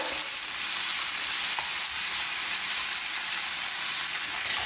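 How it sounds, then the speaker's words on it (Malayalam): Onions sautéing in a pan, stirred until light golden, give off an even, unbroken sizzle and hiss at close range with no talking. "ഇനി ഇതൊരു ലൈറ്റ് ഗോൾഡൻ ഷെയ്ഡ് ആവണ വരെ നന്നായിട്ടൊന്ന് വഴറ്റിയെടുക്കാം."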